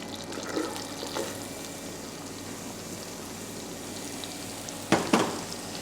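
Diced onion fries for a green risotto, a soft steady sizzle with a few faint stirs and a pair of louder scrapes near the end, heard close but at low volume.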